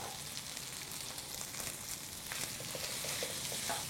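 Crushed ginger and turmeric frying in a pan, giving a dense continuous sizzle with occasional stirring scrapes and light crackles, close and alone with no talking.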